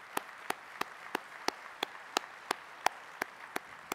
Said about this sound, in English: So everybody give Katie Klaber a round of applause.